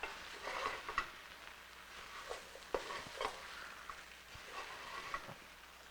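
Mushroom stew in a pot gets stirred over medium heat, giving a faint, soft scraping and gentle sizzle with occasional light clinks of the spoon, steady and low with no voices.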